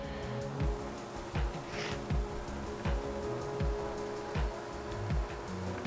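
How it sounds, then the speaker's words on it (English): Steady rain pattering on a hard surface outdoors, with dense close drips and some heavier splats recurring throughout, and no voices. "Can't really do much because it's raining."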